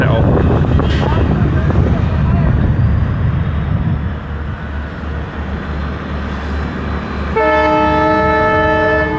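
An Indian passenger train rumbles loudly close by with heavy wind buffeting, and a long, steady horn blast sounds near the end.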